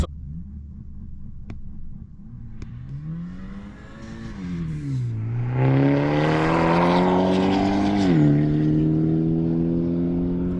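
A front-wheel-drive Hyundai Elantra N accelerates hard on a drag run, its engine note climbing steadily through the gears with a brief dip at each shift, loud and close throughout with no talking.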